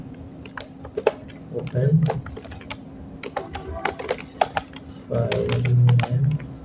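Python code being typed on a computer keyboard during a programming lesson: irregular bursts of crisp key clicks, close and moderately loud, with someone talking over much of it.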